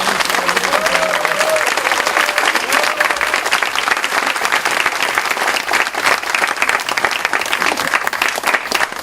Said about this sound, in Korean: 우리 한명숙 의원님 기운 내시라고 우리 한 번 더 박수 쳐보겠습니다.